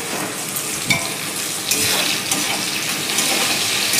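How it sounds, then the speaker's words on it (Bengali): Chopped onion with salt and turmeric, plus chopped tomato, fries in a pan with a steady close sizzle, broken by a few scrapes and stirs of a utensil. "নুন আর একটু হলুদ দিয়ে পেঁয়াজটা একটু ভেজে নেব।"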